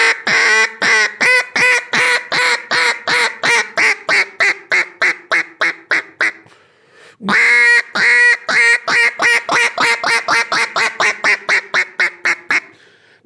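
A duck call blown by mouth imitates quacks in a long descending hail of rapid, loud, evenly spaced notes, a brief pause, then a second equally loud run, close and alone.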